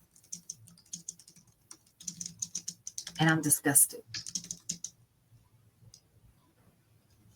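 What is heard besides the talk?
typing on a computer keyboard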